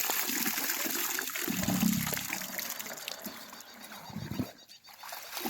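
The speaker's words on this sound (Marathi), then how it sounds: "हे पाणी असं पाईपच्या जवळून दाखवा पाणी असं भरायचं" Water trickles and splashes from a pipe draining a farm field, a soft, uneven flow that is fairly quiet and nearby.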